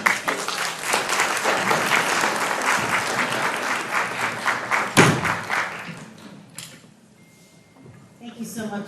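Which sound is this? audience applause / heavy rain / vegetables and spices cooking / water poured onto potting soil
audience applause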